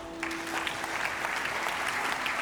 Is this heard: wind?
no